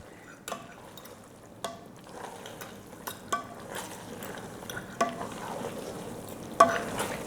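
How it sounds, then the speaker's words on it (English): Quiet bubbling and sputtering of a thick chicken Alfredo sauce cooking in an Instant Pot pressure cooker, with irregular soft pops and clicks over a low simmering hiss. "I can hear that boiling and the sauce is all thickened"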